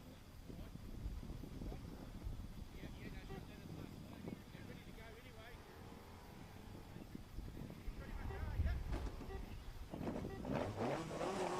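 A race car from a North Island competitor does skids at a New Zealand hill climb, its engine droning steadily at a distance with wind noise, growing louder near the end, with commentary over it.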